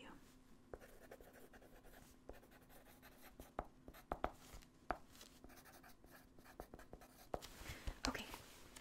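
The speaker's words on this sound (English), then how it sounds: "let me just write it down real quick" Pen writing on paper in a quiet room, soft scratchy strokes coming in short irregular bursts up close, with faint whispered sounds and brief taps in between.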